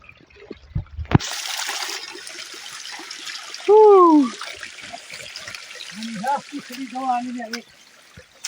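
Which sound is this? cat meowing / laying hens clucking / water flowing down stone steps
water flowing down stone steps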